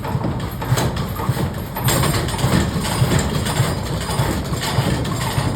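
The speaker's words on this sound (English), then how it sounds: "Engage this one, reversing the direction of the drum, and then pulls it back." An old 22-horsepower engine driving a drum at Upper Canada Village, with the drum's direction being reversed; a steady, loud, low mechanical chugging and rumble runs throughout.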